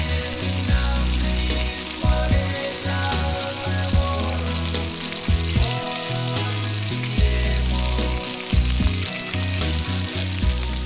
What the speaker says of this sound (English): Then you cook the fish, and what I do is I usually cook one side first.